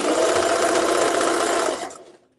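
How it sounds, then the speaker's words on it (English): A sewing machine back-stitches the corner of a zipper tote bag, a loud steady whir close up that winds down and stops. "coming down by the other square corner, I'm just going to do my back stitch"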